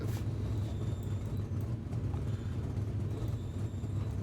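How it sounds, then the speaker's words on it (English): Ten simulated race cars circling Knoxville Raceway in iRacing, a constant low engine drone that pulses gently as the pack runs, moderately loud, with no talk. "all 10 cars out here on the Speedway, Knoxville Raceway"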